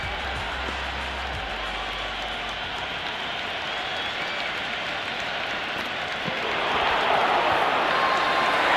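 A video-game cricket crowd in Cricket 26 applauds during a Hundred tournament match, a continuous wash of clapping and crowd noise that grows louder near the end.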